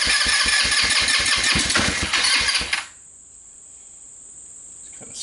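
A GY6 ATV engine cranks and fires with rapid, loud chugging pulses and a spitting carburetor, then cuts out after about three seconds, leaving a faint steady high whine.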